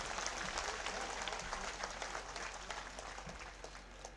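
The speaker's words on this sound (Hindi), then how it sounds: "सारा लोग जोरदार ताली बजाकर अर्जुन राम जी मेघवाल को स्वागत करो" A crowd at a scheduled caste and tribe convention in Taranagar applauds to welcome Arjun Ram Meghwal, with steady clapping that stays faint and distant throughout.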